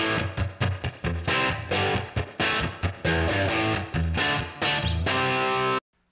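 Heavily distorted electric guitar played through a Headrush MX5 Blondie rig chugs out palm-muted riffs and crunchy chords in tight rhythmic bursts, loud and close, then cuts off abruptly into silence near the end.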